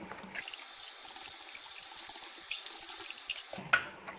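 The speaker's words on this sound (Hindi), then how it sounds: "कढ़ाई में 4 कप हम पानी डालेंगे" Four cups of water poured into a kadhai (wok) while boiling potatoes: a steady splashing, gurgling pour for about three seconds, close and moderately loud, then a brief clink and settling of the water.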